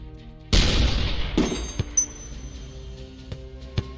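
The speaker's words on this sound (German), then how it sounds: "Der Schuss sollte einfach sein." A shot fires in the artillery game Shellshock Live: a loud sudden blast followed by a second impact boom, then scattered clinking and glassy debris sounds trailing off with a few sharp ticks.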